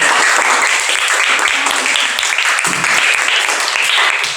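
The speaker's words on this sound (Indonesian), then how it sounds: "beri tepuk tangan untuk kelompok satu" A classroom of students claps for group one after a presentation, a loud, close burst of dense clapping that continues steadily, with some voices mixed in underneath.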